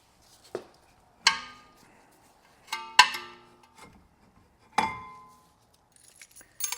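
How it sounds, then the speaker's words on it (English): Metal brake caliper bolts and caliper come off a BMW E90, making a handful of sharp, ringing metallic clinks spaced a second or two apart, close and clear over near silence. "Now we'll pull the 2 caliper bolts. I'll just pull the caliper off."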